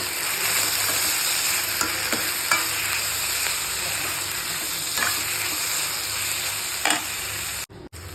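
Tomatoes and green chillies for a potato kurma fry in a pan with a constant loud sizzle, broken by occasional spoon scrapes and taps, close up, with no one talking.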